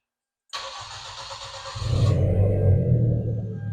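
A Hyundai Genesis Coupe BK2 cranks with a whirring starter for about a second and a half, then catches and settles into a loud, deep idling rumble close by.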